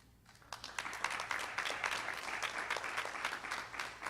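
Applause rises from the audience at a Physical Therapist Assistant pinning ceremony for the graduating students, a moderate roomful of clapping that starts quickly and holds steady, heard alone without voices.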